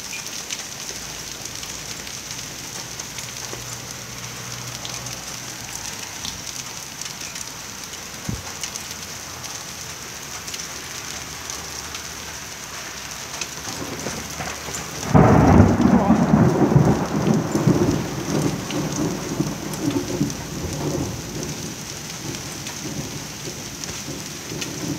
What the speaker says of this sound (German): Die Hagelkörner gehen immer größer.